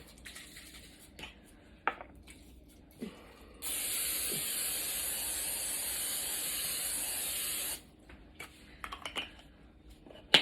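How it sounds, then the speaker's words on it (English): Cooking spray hisses steadily onto a 9x13 baking pan in a home kitchen, one continuous burst of about four seconds between quieter clinks and handling noises. "take your 9x13 pan and spray it"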